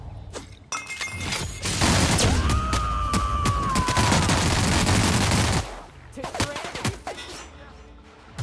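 Loud, sustained volley of gunfire and shattering impacts in the sci-fi game The Outer Worlds, an enemy shooting at the player for several seconds before easing off into scattered hits.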